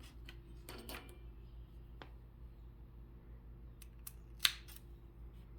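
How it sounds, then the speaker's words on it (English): Yarn snipped with scissors in a quiet room, a couple of small brief clicks and one sharper cut near the end, faint and isolated against low background hum. "Once you've finished your round, you can cut your yarn"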